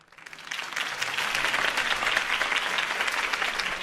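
Crowd applause erupts after Harvey Dent's campaign speech in Batman: The Telltale Series, a dense, steady clapping that swells in over the first half-second and holds loud and even to the end.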